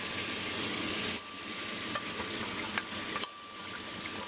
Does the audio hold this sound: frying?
yes